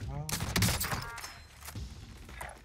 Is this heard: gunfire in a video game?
yes